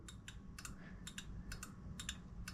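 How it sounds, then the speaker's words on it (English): Small switches on an AMF 82-30 bowling pinsetter click in a steady series of faint, sharp, close ticks, often in quick pairs, over a low mechanical hum with no talking. "always make sure that both of these switches are clicking at the same time"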